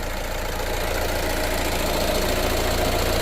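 A Renault Scenic diesel engine idling close by, a steady loud rumble with a light, even knock running throughout and no voices.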